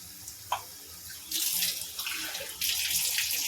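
Water pours into a pot of murungakkai paruppu sambar, starting with a small splash and then running as a steady, close hiss in two bursts with no talk.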